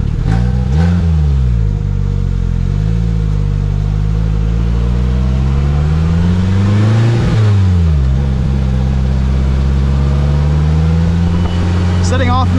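A Polaris Slingshot's engine pulls away with loud rising revs and falling pitch at each gear change, sustained and close, climbing again after each shift.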